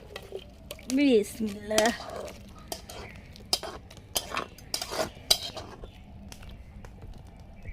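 Cooked shrimp and Malabar spinach curry being spooned out of a pot in a village kitchen, with metal utensil clinks and scrapes coming in short bursts while someone speaks.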